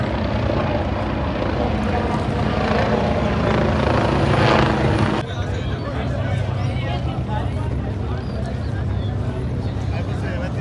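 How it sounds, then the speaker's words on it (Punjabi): A police helicopter flies overhead and produces a loud, steady rotor drone that dominates the scene, with faint voices of people on the street underneath. "ਪੁਲਿਸ ਵਾਲੇ ਨਾਲ ਹੈਲੀਕਾਪਟਰ ਆ ਰਿਹਾ"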